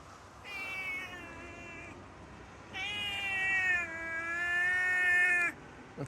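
A cat meows twice, each cry drawn out and plaintive, the second longer and louder, with quiet background in between.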